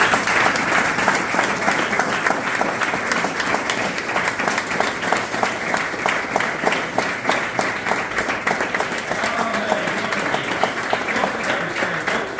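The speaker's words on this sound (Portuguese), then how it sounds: "Vamos dar um aplauso a Jesus." A church congregation claps together in sustained, dense applause at a worship service. The claps are rapid and even, and the sound holds steady and fairly loud throughout.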